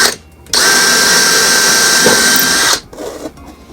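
Electric drill boring holes in a model railway turnout for wiring: a loud, steady high-pitched whine runs for about two seconds between short pauses.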